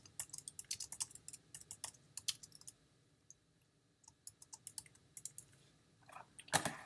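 Quick bursts of typing on a computer keyboard while filling in a spreadsheet, soft close key clicks in uneven runs with brief pauses, then a louder cluster of keystrokes at the end.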